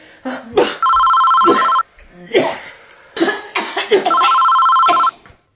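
A telephone rings in two long, steady electronic bursts, loud and close, with coughing and throat-clearing noises between the rings.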